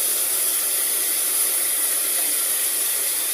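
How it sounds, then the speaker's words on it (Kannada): Tomatoes added to onions fried in oil sizzle in the pan, making a loud, steady, close hiss that runs unbroken and alone, with no talk. "ಇವಾಗ ಟೊಮೊಟೊ ಹಾಕ್ತಾ ಇದ್ದೀವಿ"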